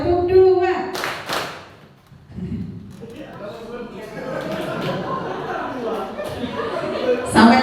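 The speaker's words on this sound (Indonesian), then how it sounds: "coba tepuk satu, tepuk satu, tepuk dua, tepuk dua" A group claps in counted, rhythmic sets during a school teachers' training session, with sharp bursts of hand claps between stretches of lively talk and chatter from the room.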